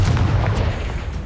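Spell-casting effects in Hogwarts Legacy combat: a loud, brief burst of a heavy magical boom with a rumbling low-end impact that fades within about a second.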